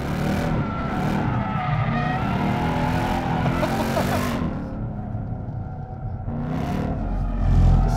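A 2021 RTR Ford Mustang with almost 750 horsepower drifts into oversteer, its engine roaring loud and close with tire squeal and rumble that briefly eases before surging again.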